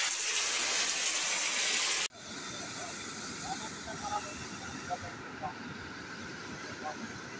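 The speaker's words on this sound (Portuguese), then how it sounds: "A água aqui já está começando a escorrer." Rainwater begins running off in a town in Bahia, northeastern Brazil, as rain starts falling: a loud steady hiss cuts out abruptly, then a softer continuous wash of flowing water with small splashes and drips follows.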